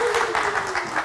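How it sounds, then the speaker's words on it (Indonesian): Studio audience on a live Indonesian talk show greets a guest musician with a brief, loud round of clapping, pulsing slightly as a voice carries underneath. "silakan kita kasih tepuk tangan"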